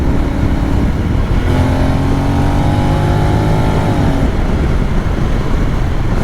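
Custom Honda X-ADV 750 scooter engine revving up close, its pitch climbing then dropping at a couple of gear changes, loud and continuous throughout with no talking.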